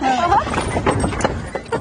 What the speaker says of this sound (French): le jeune cheval qui en a marre d'attendre